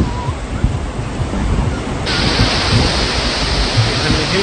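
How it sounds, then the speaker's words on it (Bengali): Sea waves rushing in on Mandarmani beach at sunset, heard as a loud, continuous broadband wash close to the shore that swells sharply partway through, with some wind buffeting. "এখানে ঢেউটা বাড়লো,"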